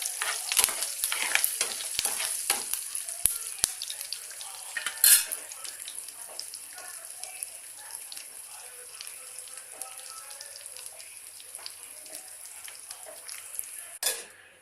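Blended tomatoes fry and sizzle in hot oil while being stirred, a steady crackle with scraping spoon strokes against the pan and a sharper clink near the middle and end.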